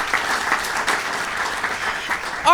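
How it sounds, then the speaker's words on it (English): An audience at a university residence hall ribbon-cutting ceremony applauds steadily, many hands clapping in a continuous, fairly loud wash that ends in a brief squeal of microphone feedback. "A round of applause for Eric."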